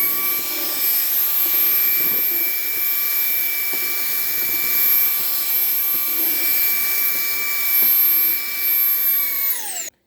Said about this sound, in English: we're gonna try this extension rod on some of the small stuff and see how well it does